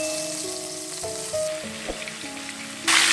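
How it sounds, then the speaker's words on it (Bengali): Marinated chicken fries in hot oil with cinnamon and bay leaf, giving a steady broadband sizzle with a few soft stirring knocks and a louder burst of crackle near the end. A faint tonal hum runs underneath. "এখন এই ম্যারিনেট করা চিকেনগুলো তেলের মধ্যে দিয়ে ভালো করে ভেজে নেব।"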